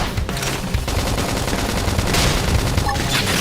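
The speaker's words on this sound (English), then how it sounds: "Topple him with some gunfire!" Rapid gunfire in the video game Xenoblade Chronicles X during a battle, a dense, loud barrage of shots layered over game music and effects, continuous throughout.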